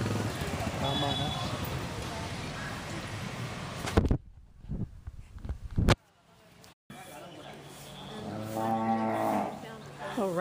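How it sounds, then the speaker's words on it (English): A cow moos briefly in an outdoor setting in Tiruvannamalai, India, amid crowd chatter and street noise, with a quieter pause before the noise resumes. "Do I hear a moo?"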